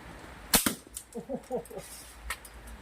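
A slingshot fires 8 mm balls outdoors, giving a pair of sharp, close snapping cracks followed by fainter clicks, with a brief murmur of voice between them.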